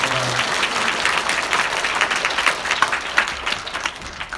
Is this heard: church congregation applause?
yes